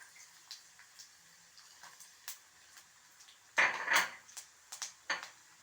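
Chana dal, urad dal and dried red chillies drop into hot oil in a pan with mustard seeds already popping, giving faint sizzling, light metallic clinks of a spoon, and a short louder crackle as they hit the oil.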